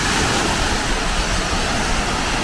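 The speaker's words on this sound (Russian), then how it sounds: "И вот такое море у отеля" Sea surf rolling onto the gently sloping sandy beach of a hotel in Side, Turkey: a steady, loud, continuous wash of waves with no voices, broadband and unbroken throughout.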